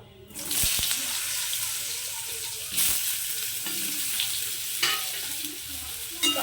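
Loud, steady sizzling of potatoes frying in hot oil with tempering spices, with occasional scrapes and stirring clatter; no talking.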